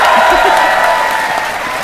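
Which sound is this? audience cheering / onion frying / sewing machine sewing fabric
audience cheering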